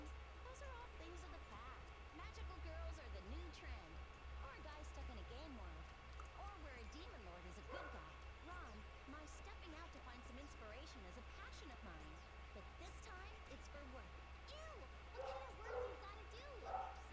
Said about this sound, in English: Dog going off in the background